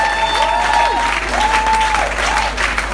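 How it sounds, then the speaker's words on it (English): Wedding guests clap steadily throughout, a dense close wash of applause with a sustained sung or played tone gliding beneath it. "This is the time everybody should be clapping."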